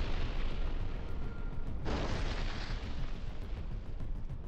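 A FAB-500 guided air bomb explodes at a military deployment point, a distant heavy boom heard as a sudden swell of rumbling noise partway through, set against steady loud wind-like background roar.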